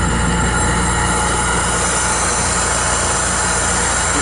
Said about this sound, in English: If we crack this valve, you can see we'll start getting some air.